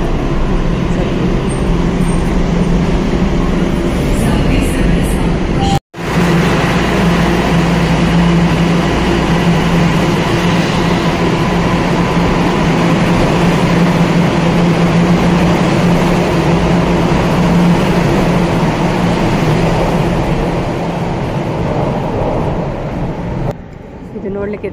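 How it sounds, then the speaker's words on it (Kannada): A subway train runs with a loud, steady rumble and rolling clatter heard from close by, and the noise dips briefly and fades toward the end. "ಇದು ಟ್ರೈನ್ ಅಲ್ಲ, ಇದಕ್ಕೆ ಸಬ್ವೆ ಅಂತ ಕರೀತಾರೆ."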